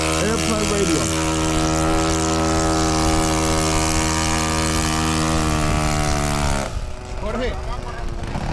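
A 4-stroke Piper RC model airplane drones loudly in flight, its strong engine whine steady and close for several seconds before it drops away sharply and fades into quieter background noise.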